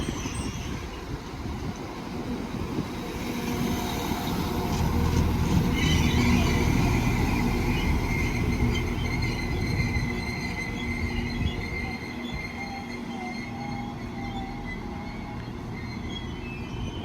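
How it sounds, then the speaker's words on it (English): A double Class 195 diesel multiple unit pulls into Rochdale station on a Leeds service, a steady engine rumble that swells midway with rolling wheel noise and faint squeals before settling. "Next train to arrive in is a double 195 going to Leeds."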